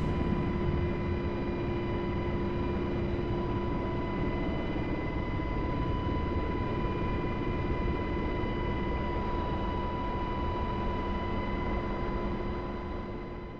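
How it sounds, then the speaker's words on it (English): A simulated UH-60L Black Hawk helicopter in DCS World drones steadily, a continuous loud turbine whine with tonal hum over broadband rotor and engine rush, unchanging for the whole stretch. "the UH-60L Mod is definitely the easiest helicopter to fly in DCS"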